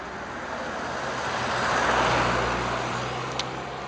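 A car drives past, a broad whooshing rumble that swells toward the middle and slowly fades, with no talking.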